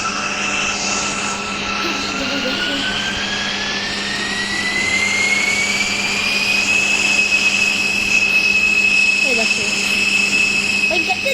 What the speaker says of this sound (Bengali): অটোমেটিকলি জেট প্যাক চলতেছিল গাইস